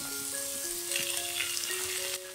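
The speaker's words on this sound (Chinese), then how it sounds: "酱油，翻炒均匀。" A vegetarian oyster sauce and soy sauce seasoning mixture is stir-fried in a wok with salt and pepper, giving a steady close sizzle under a few sustained tonal hums, with no talking.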